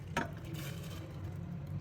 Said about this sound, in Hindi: ये सब्ज़ी जो मैंने चॉप की है वो मैं इसके अंदर डाल दूँगी।